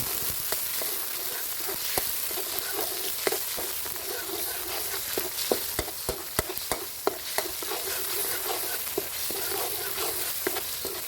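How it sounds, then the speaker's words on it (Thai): Red curry paste stir-fried in oil with a splash of water for a sour bamboo shoot catfish curry, a continuous even sizzle with frequent small spatula taps and scrapes, close and steady. "ผัดพริกแกงเนี่ยสำคัญมากๆเลยนะครับ"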